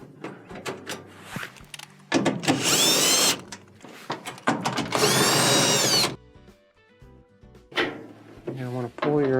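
A power drill backs 1/4-inch screws out of the blower housing of a Whirlpool dryer, in two loud, close bursts of whirring lasting a couple of seconds each, with quieter handling noises between them.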